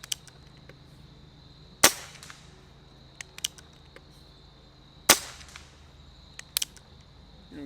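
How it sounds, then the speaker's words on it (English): Two sharp shots from an unregulated Benjamin Cayden air rifle, about three seconds apart, each followed by light mechanical clicks, ending with the faint click of an empty magazine; close and otherwise quiet. "Okay, you heard that click there. That means your mag's done."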